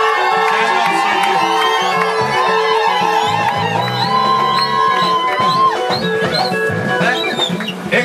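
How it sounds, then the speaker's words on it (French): A wedding crowd cheers and shouts for Bivas, a festive roar of voices rising over loud music and an amplified voice, sustained throughout with excited whoops near the end. "est-ce qu'on peut acclamer Bivas?"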